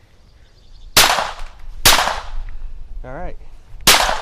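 Three sharp, loud cracks from a Taurus TX22 pistol firing CCI Quiet ammunition, evenly spaced about a second apart, with a short spoken word between the last two shots.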